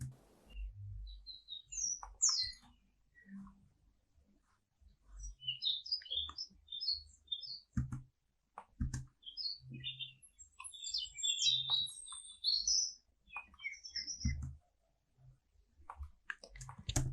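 Bright bird chirps and twitters come in scattered bursts, interspersed with soft low clicks and thumps, fairly quiet overall.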